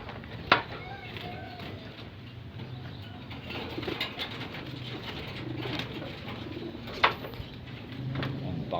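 Pigeons coo softly nearby before release, low burbling calls under someone talking, with a few sharp clicks and taps scattered throughout.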